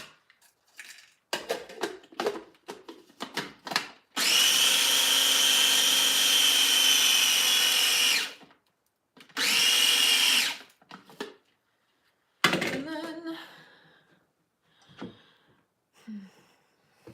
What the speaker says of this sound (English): So I'm just gonna kind of grind up this candy cap here.